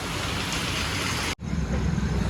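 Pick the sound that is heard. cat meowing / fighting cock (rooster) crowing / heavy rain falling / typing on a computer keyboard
heavy rain falling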